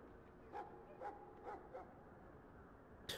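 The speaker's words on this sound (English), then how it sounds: "Do I hear dogs barking?" Dogs bark from the army camp kennels in the Dragon Age game at Ostagar, four spaced single barks at a moderate distance over a steady ambient bed, followed by a sharper, closer bark at the end.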